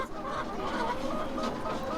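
Chickens in a poultry village in rural Kenya keep up dense, overlapping clucking, a steady busy flock chatter heard at a moderate distance with no clear talking.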